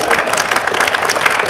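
Scattered applause from the audience at a fire department recruit class graduation ceremony, a brief, dense burst of clapping with crowd noise.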